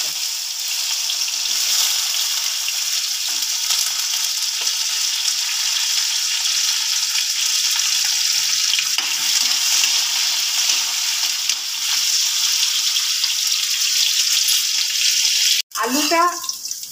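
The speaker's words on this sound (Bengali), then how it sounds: "তার সাথে দিয়ে দিচ্ছি আলুটা।" Potatoes and green chilies fry in hot oil with a loud, steady sizzle that runs unbroken, ending in a brief clatter near the end.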